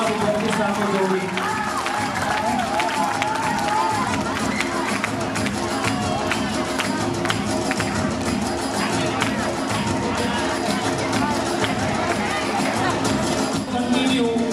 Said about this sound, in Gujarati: થોડી તાળીઓનો નાદ અને થોડી તાળીઓનો ઉત્સાહ વિદ્યાર્થી સાથે જોડી.